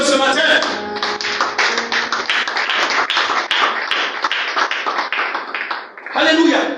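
A church congregation at a Sunday service claps in a fast, steady rhythm of many hands, loud and continuous. Voices come through faintly underneath, and a cheer rises at the end.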